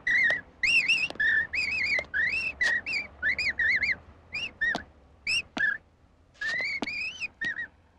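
Whistled imitation of an Indian nightingale: a rapid run of bright warbling phrases with quick rising and falling trills, broken by short pauses, close and clear over a faint low hum, with no talk.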